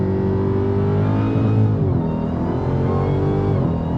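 A 2023 Dodge Challenger Black Ghost on a track, its engine a loud, steady droning roar with slight pitch sweeps as it holds speed, close and continuous, no talking.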